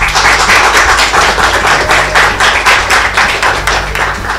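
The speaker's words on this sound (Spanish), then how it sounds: "le damos un fuerte aplauso a Rafael Cavada." An audience at a school interview event claps loudly and steadily to welcome a journalist, a dense close-up patter of many hands filling the whole stretch without pause.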